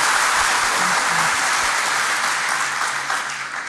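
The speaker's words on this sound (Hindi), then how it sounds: "हमारे बच्चे तालियों के माध्यम से आपका अभिनंदन कर रहे हैं" A room full of children at an ashram applauds a visiting guest with loud, dense, sustained clapping that holds steady and eases off a little at the close.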